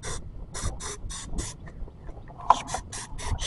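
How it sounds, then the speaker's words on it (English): Starter fluid is sprayed from an aerosol can into the carburetor of a riding mower in several short hissing bursts, five quick sprays, a pause, then another run of rapid spurts, close and fairly quiet. "I'm gonna just spray some of this starter fluid in through there because my carburetor cleaner is empty."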